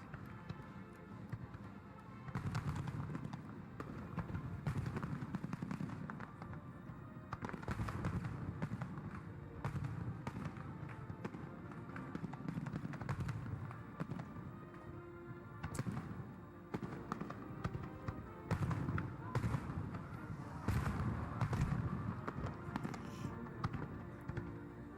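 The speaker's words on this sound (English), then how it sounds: "Nice seats, sitting right along the lake, watching fireworks." Distant fireworks over a lake thud and pop in irregular bursts over a steady outdoor background, with scattered crackles between the booms.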